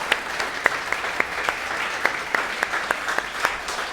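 A church congregation clapping during a Sunday service, a lively spread of many hands with sharp individual claps standing out in a loose, uneven rhythm, close and fairly loud.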